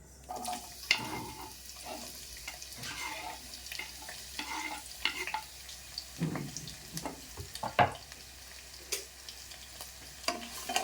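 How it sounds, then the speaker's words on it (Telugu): Chopped onions fry in a pan with a low steady sizzle, punctuated by frequent spatula scrapes and taps against the pan, close and moderately quiet. "చూడండి, ఎర్రగడ్డలు గోల్డెన్ కలర్ వచ్చినాయి, బాగా ఫ్రై అయినాయి"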